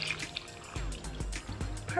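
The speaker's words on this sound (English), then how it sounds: "we want to add just enough water to cover these guys up" Water pours from a container into a cooking pot of diced pears for pear pie bars, making a trickling, splashing flow with a few louder gushes.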